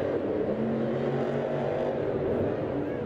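Monster trucks racing around an indoor stadium track at a 2023 Monster Jam event in Lucas Oil Stadium, Indianapolis, a continuous distant engine roar filling the arena.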